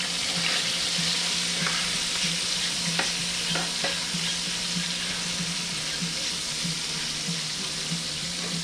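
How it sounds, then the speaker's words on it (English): Chicken cutlets and wings fry in a pan, a loud continuous sizzle and crackle with occasional soft pops and clinks of a utensil, no voices over it. "The cutlets are cooking real nice."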